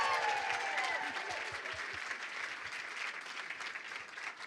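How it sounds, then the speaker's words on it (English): An audience at a city employee recognition awards ceremony breaks into dense, sustained applause, with many hands clapping together loudly and evenly before gradually thinning. "How about a big round of applause for Judy and Justin?"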